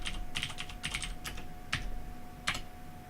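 Fingers type an ifconfig command on a computer keyboard, quick clusters of crisp close key taps with short pauses between bursts, over a faint steady hum and no talking.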